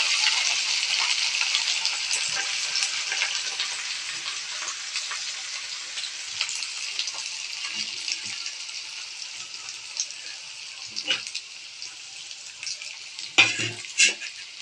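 Chopped turmeric fries in a pan with a steady bright sizzle that slowly eases, broken near the end by a few sharp metallic clinks of utensil against pan.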